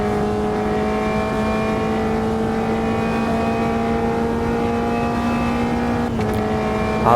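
A race car circles a track in the sim racing game Automobilista 2, its engine holding a steady high-pitched drone with a sharp gear change near the end, loud and alone with no talking.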